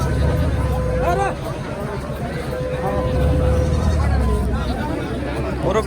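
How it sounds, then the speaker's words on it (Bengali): Goats bleat repeatedly at the busy Joypara goat market in Dohar, Dhaka, their calls rising over a steady crowd babble and nearby voices. "একটু দেখানোর চেষ্টা করি আপনাদের ছাগল"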